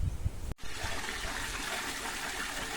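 Fresh water gushes steadily into a freshly washed farm water tank, a continuous close splashing rush that runs throughout after a brief dip near the start.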